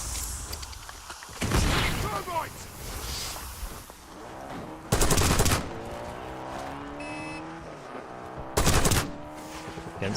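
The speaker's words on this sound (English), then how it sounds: "Getting sniped at right now." Sniper shots ring out in Call of Duty Warzone: three loud, sharp cracks spaced a few seconds apart over a low hum of game ambience.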